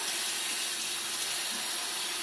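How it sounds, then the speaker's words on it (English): Water running steadily from a tap over soapy hands as they are rinsed at a sink, a continuous broadband splashing rush that stays even throughout. "And then I'm going to begin to rinse."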